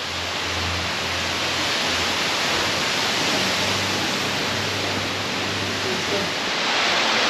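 A waterfall in Singapore roars as a dense, steady wash of falling water, loud and continuous throughout, with a faint low hum underneath.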